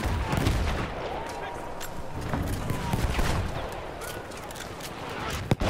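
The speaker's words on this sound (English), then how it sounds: "Those damn mortars coming in." Incoming mortar fire in Battlefield 1 in the Argonne Forest, heard as a loud, dense barrage of booming blasts and scattered gunfire throughout, ending with a sharp close impact.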